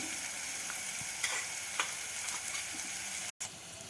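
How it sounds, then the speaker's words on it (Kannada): Peanuts and onions fry in a pan with a continuous, moderately loud sizzle, a few light stirring clicks and a brief cut near the end. "ಈ ಶೇಂಗಾನು ಸ್ವಲ್ಪ ಫ್ರೈ ಆಗಲಿ ಅನ್ನೋ ಸಲುವಾಗಿ ನಾವು ಉಳ್ಳಾಗಡ್ಡಿ ಜೊತೆನೇ ಹಾಕೊಂಡ್ಬಿಟ್ಟಿದ್ದೀವಿ."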